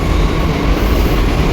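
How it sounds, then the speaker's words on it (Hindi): Loud, dense rail rumble of a Delhi Metro train arriving at a station close by, steady and roaring with a faint rhythmic clatter of wheels. "आ चुकी है मेट्रो,"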